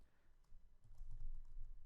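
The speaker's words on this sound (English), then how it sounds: "Type the name of a node or a term associated with the action you would like to perform." A computer keyboard is typed on, with soft, quick key clicks that grow busier and denser toward the end, heard fairly faintly and close up with no voices.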